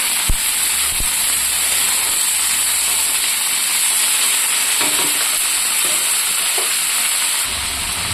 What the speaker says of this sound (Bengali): আমি তেলের সাথে একটু ভাজবো।